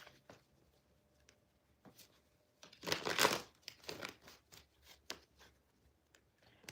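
Tarot cards being shuffled by hand, with soft papery riffles and crinkly patters in a brief louder burst near the middle, then scattered light taps and rustles up close in a quiet room.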